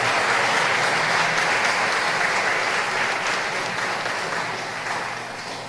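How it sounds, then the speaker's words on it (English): Sustained, dense applause from a large audience at an award ceremony honouring Belizean patriots, loud and steady at first, then gradually thinning and fading toward the end. "One more time, an applause for Miss Myrtle Joan Banner."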